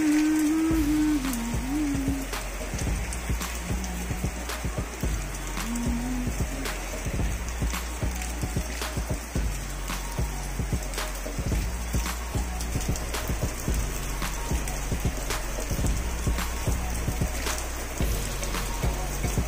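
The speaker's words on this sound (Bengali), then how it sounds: "শুনতে পেলে বৃষ্টির রিমঝিম শব্দ" Steady rain patters outdoors during continuous monsoon downpour in Sylhet, a soft constant hiss with scattered drips and taps, even in level throughout with no talking.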